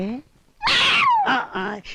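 A loud, drawn-out cat meow that slides down in pitch, with brief voice sounds before and after it.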